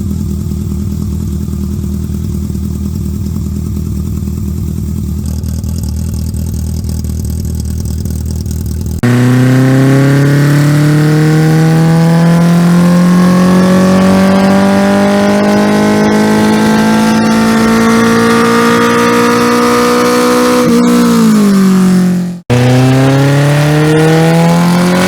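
A BMW K1100 motorcycle engine with a 4x1 collector and loose pipes idles roughly, then revs hard in long rising sweeps, drops off sharply and climbs again, loud and close.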